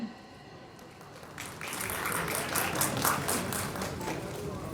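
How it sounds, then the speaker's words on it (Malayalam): An audience at an album launch event bursts into applause after a quiet start, the clapping swelling around the second mark and continuing as a steady, moderately distant patter of many hands. "നമുക്ക് എല്ലാവർക്കും ഒരു വലിയ കയ്യടി കൊടുക്കാം."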